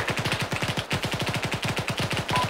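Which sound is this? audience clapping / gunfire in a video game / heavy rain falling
gunfire in a video game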